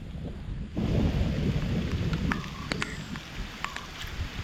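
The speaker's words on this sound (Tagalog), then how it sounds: "pumapatak na yung ulan." Steady rain falls and patters on surfaces, with low rumbling underneath and a few sharp drip or tap sounds standing out.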